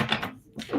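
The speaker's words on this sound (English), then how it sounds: "Give it a quick little shuffle." A deck of tarot cards gets a quick shuffle, giving two short papery bursts of riffling separated by a brief pause, close and fairly loud with no talk.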